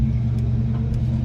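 A 1964 Nova II being driven: a brief, steady low engine rumble, close and continuous, with no talking.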